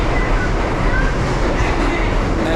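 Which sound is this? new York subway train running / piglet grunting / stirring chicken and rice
new York subway train running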